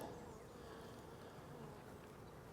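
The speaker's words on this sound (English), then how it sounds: "But there's a handful of bees in there" Honey bees in a hive box hum in a steady, dense drone, faint and continuous with no talk over it.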